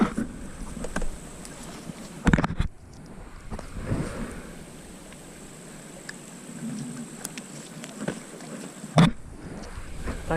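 A fishing boat's motor idles low and steady on a lake while bass fishing along laydowns before a storm. It makes a continuous, fairly faint rumble with a few brief knocks and bumps, and no one speaks.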